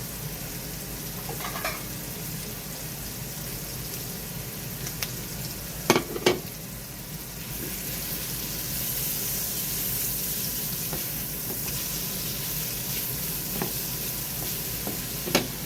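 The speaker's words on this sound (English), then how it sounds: "I'm just trying to heat this up in the butter just a little" Butter sizzles and fries steadily in a pan on low heat, a constant close crackle with a few sharp clicks and taps over it.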